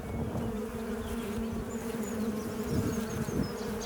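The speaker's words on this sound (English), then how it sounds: "It's a swarm of bees." A swarm of bees drones continuously nearby, a layered buzzing hum with individual insects whirring past now and then.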